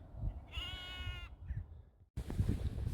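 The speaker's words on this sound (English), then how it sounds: "I'm hoping that's mother sheep up there." A single drawn-out sheep bleat, probably a ewe near a stray lamb, rings out from a little way off across an open field for under a second, framed by wind and rustling with no one talking.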